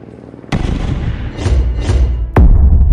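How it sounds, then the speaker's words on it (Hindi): Hand grenade explosions in an animated action story erupt as several loud, close booms, the first sudden blast followed by two rumbling bursts and a final sharp, heavy detonation. "स्टेडियम के ऊपर पहुंचते ही मेहुल हैंड ग्रेनेड फेंकने लगता है।"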